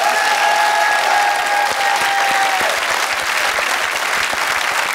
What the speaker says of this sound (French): Merci, on l'applaudit, merci !